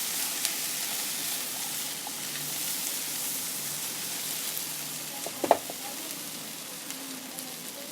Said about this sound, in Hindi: पोटैटो को हमने थोड़ा सा इनके साथ पका लेना है। ठीक है दोस्तों, हाफ फ्राई कर लेना है अच्छे तरीके से ओनियन के साथ।